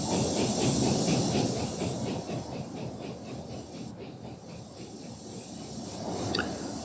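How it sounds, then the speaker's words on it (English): A freight train pulls away on a small-town branch line in the EEP railway simulator, a steady hissing, rumbling rail noise with rhythmic wheel clatter that gradually eases as the train moves off into the distance. "now this little branch line train should leave here off into the distance to the left"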